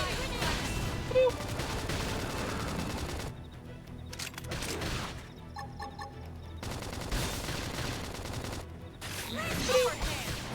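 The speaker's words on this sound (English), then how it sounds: "Flame grenade." A flame grenade attack in Xenoblade Chronicles X bursts amid crackling battle noise, with short gaps between loud blasts and a voice speaking over parts of the combat.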